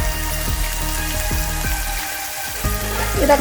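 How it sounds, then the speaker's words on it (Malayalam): Green chillies and spices with a little salt sautéing in a pan over a high flame for a coconut milk chicken curry, giving a steady close sizzle and frying crackle with a few soft clatters of stirring. "പിന്നെ നമുക്ക് ഒരു നല്ല ഹൈ ഫ്ലെയിമിൽ വെച്ചിട്ട് ഇതൊന്ന് വഴറ്റി എടുത്ത് കൊടുക്കാം"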